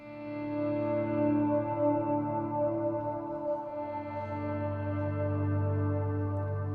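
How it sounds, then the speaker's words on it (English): A sustained electric guitar tone swells in softly through a Flux Effects Liquid Ambience reverb pedal and rings on with a washy, echoing reverb tail, smooth and continuous with no attack. "So that's just a volume swell with the reverb pedal on."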